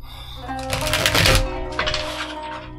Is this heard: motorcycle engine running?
no